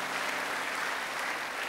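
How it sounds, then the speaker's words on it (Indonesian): Congregation applauding during a church service in Batam: a brief, steady wash of many hands clapping together, moderately quiet and even, with no voices over it. "Tepuk tangan yang meriah buat Tuhan, yang luar biasa."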